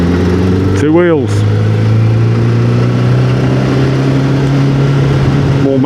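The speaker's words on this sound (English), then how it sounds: "Motorcycles coming round the bend here." Motorcycles come round a bend on a road, a brief rising-and-falling engine pass close by, heard over the steady drone of a car engine interior, with someone talking.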